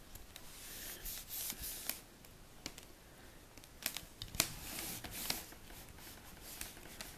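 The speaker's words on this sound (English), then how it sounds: "So I rub the image with a brayer or with my hand." A monoprint on an acrylic plate is rubbed down by brayer or hand, giving a steady dry scratchy friction with scattered sharp ticks and short rasping strokes, close and fairly quiet, with no talk.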